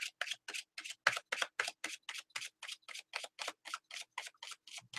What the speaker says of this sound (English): All right, people, we're shuffling up.